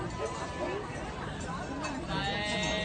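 A sheep-like bleating, apparently a person imitating a sheep, sounds in a noisy room with people chattering, the bleat rising over steady babble for a few seconds.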